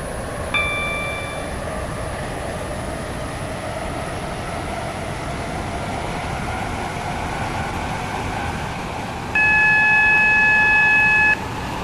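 A WaterLine passenger train runs toward Newry with a steady rumbling cabin drone, broken by a brief electronic chime near the start and a longer, louder tonal beep or announcement chime near the end.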